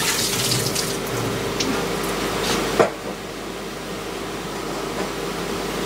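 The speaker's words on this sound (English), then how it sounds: "I'll just rinse that under the tap." A water tap runs in a steady, fairly loud hiss as an anodised part is rinsed under it, then cuts off abruptly partway through, leaving a quieter room hum with no talking.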